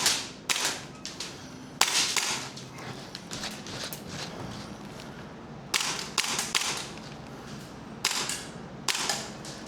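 Airsoft pistol firing a string of sharp, snappy shots in irregular bursts, some rapid pairs and clusters with short pauses between, close and loud with no talking.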